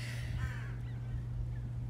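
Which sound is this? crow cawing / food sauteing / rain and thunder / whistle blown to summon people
crow cawing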